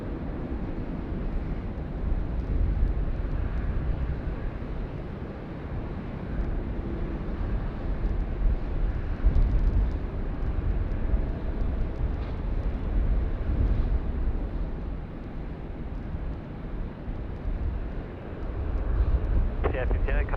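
Airliner, a Velocity flight bound for Melbourne, departing Sydney Airport at night in breezy conditions; a long, steady low jet roar with wind buffeting the microphone, distant but persistent, and people talking now and then over it.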